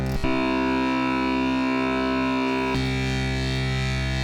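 A thick, buzzing UDO Audio Super 6 synthesizer tone using complex waveforms, with complex harmonic layers, holds steady and loud, with a brief glitchy burst at the start and a timbre shift midway.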